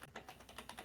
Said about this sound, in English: punching the shit out of your keyboard because we heard every click